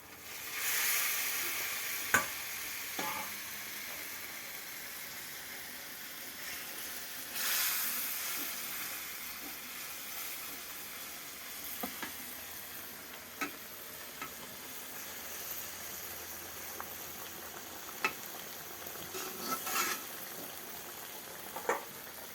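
Small puti fish slide into a boiling mustard curry, setting off a broad steady sizzle with a louder hiss burst at the start and another midway, plus faint scrapes and taps from an iron spatula.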